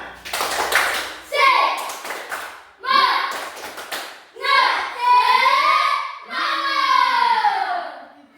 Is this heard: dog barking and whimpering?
no